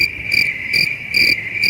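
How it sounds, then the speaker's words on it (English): Crickets chirp loudly in a steady rhythmic pattern, shrill pulsing trills repeating about every half second, close and with no other sounds. "they got crickets"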